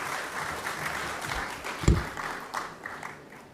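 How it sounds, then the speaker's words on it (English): Audience applause at an opening ceremony and hall of fame induction, a steady wash of clapping at moderate level with one sharp thump near the middle. "Please, a round of applause for Ms. Holder."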